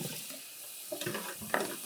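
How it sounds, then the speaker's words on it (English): Kitchen tap water runs over chopped scallions in a sink, a steady close hiss with splashing bursts as the flow hits the food. "we'll just run the water over it"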